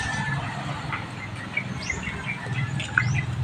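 Birds chirping and tweeting in short, scattered calls over a steady background hiss, several sharp high chirps at moderate distance.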